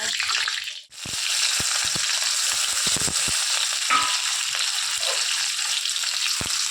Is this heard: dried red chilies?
yes